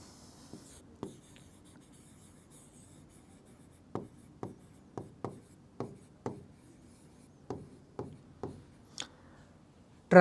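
Chalk or marker taps and short strokes on a board during a Class 9 maths lesson on congruent triangles. About a dozen crisp, evenly spaced ticks sound close against a quiet room with no talk.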